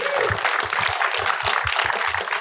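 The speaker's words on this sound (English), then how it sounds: "Let's give him another round of applause, please." Audience applause for a film director at a podcast screening conversation, a steady wash of clapping throughout under a low rumble of voices and movement.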